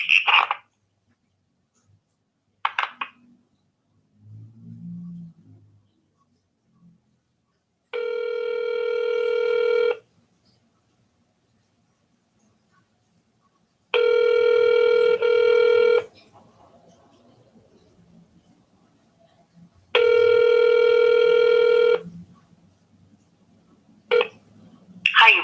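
A telephone line rings three times during a hospital call transfer, each long electronic ring tone lasting about two seconds with long pauses between, along with a few short beeps and brief faint voices.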